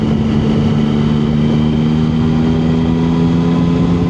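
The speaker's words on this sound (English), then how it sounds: "Sounds so much better with this Delkovich exhaust on." Motorcycle fitted with a Delkevic exhaust, heard at a bike night gathering, a steady, loud engine drone with a deep, even exhaust note and no talk.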